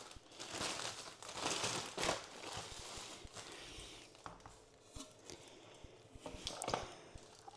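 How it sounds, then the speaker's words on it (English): A Ziploc plastic bag is pulled open and handled, giving loud crinkling and rustling bursts with a few clicks and taps throughout, close by and without speech. "let me get this Ziploc opened up."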